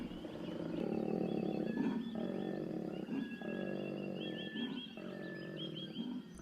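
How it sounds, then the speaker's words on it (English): A male koala in Otway Forest bellows a deep, rumbling growl that sounds far too big for its size, pulsing in repeated snoring heaves close by and loud throughout, with no voices. "he reinforces his presence with growls"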